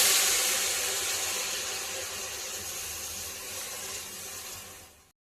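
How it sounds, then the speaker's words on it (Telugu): Water pours steadily into a pot of rice in a continuous close hiss and splash, loudest at the start and easing slightly before stopping sharply at the end. "4 గ్లాసులు నీళ్ళు పోయాలి"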